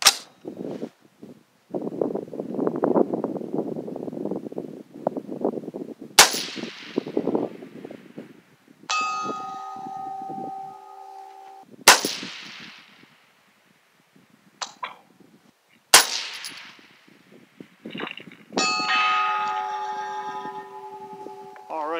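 A .223 rifle firing Hornady 73gr and 88gr ELD bullets at 1200 yards in wind: several sharp, loud shots spaced apart, each followed later by a faint, distant metallic ring from a steel target, with wind noise and brief talk between.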